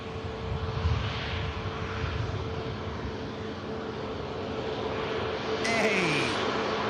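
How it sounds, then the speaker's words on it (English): An airliner departing Manchester Airport for Paris, a broad steady engine roar with a faint whine heard from a distance, growing slightly louder near the end. "Aircraft begins the 1 hour flight down to Paris."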